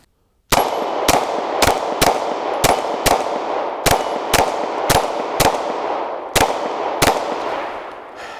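A Glock 23 pistol with a red dot sight fires at an outdoor pistol range, about a dozen loud, sharp shots in a quick uneven string, each followed by a brief echo.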